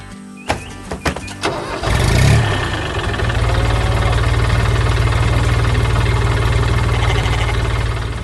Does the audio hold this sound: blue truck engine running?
yes